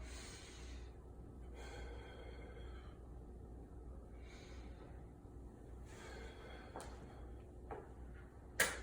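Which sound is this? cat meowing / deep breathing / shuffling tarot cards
deep breathing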